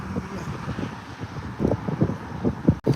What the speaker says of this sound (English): this is a little bit windy today